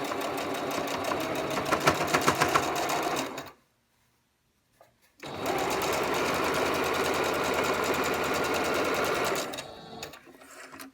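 A sewing machine stitches a quarter-inch quilting seam for half-square triangle blocks. It runs in two steady bursts with a silent pause between them, close and fairly loud.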